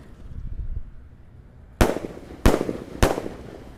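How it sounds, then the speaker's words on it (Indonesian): A yellow Basoka Roman Candle Triple Boom firework fires three sharp, loud bangs at even intervals of roughly half a second, following a low rumbling lead-in. "Sudah menyala peluru Basoka Roman Candle Triple Boom warna kuning."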